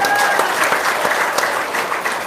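An audience at an Indonesian Maulid Nabi religious lecture claps steadily, a dense, continuous crowd applause filling the room with no voices over it.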